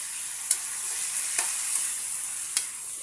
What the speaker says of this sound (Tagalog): Kasi magluto tayo ng adobong pusit